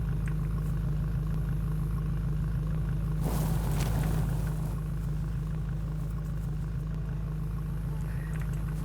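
A car engine idles steadily in the video game DayZ, a low, even drone throughout with a brief, louder noisy burst partway through.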